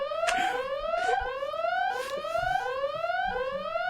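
A repeating electronic alarm sounds alone and steady, its rising sweeping tone cycling about every second with faint clicks between the rises.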